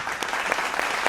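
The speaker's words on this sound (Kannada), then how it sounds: "ಬರ್ಲಿ ಜೋರಾದ ಚಪ್ಪಾಳೆ." An audience at a televised singing reality show final applauds with a dense, steady burst of clapping, brief and fairly close.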